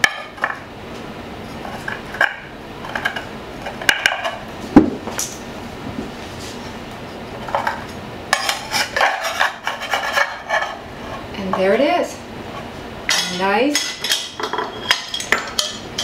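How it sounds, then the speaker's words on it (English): A utensil slices through a hot low-carb pizza casserole with a soft baked crust in a baking dish, giving scattered scraping and rasping strokes with clinks against the dish, moderately close. "And you'll want to slice it up just like a sheet pizza."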